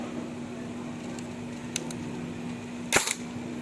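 An airsoft HK416 rifle fires 0.20 BBs during a chronograph check, a sharp close snap near the end with two fainter clicks earlier, over a steady mechanical hum.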